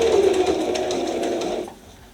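A sewing machine stitches a bag strap in a loud, close, steady run that lasts a second and a half and then cuts off into quiet.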